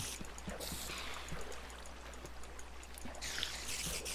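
Water running continuously in Minecraft, a steady trickling stream that stays level throughout with faint clicks and game sounds mixed in, no talking over it.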